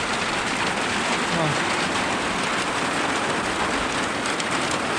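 Steady, heavy rain pouring down, a dense continuous hiss of drops striking surfaces close by, loud and unbroken.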